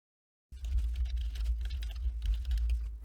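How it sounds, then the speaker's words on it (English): Rapid typing on a computer keyboard starts abruptly after a short silence and continues as a steady, close patter of key clicks over a low hum. "I've just typed something really simple into here"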